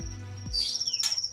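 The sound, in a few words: white-rumped shama (murai batu) singing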